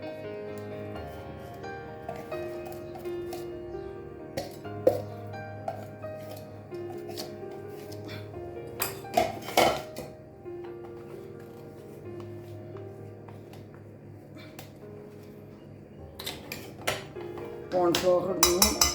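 Vada batter ingredients being mixed in a bowl make scattered clinks and scraping knocks of a utensil against the bowl, interspersed with someone speaking, growing busier and louder toward the end.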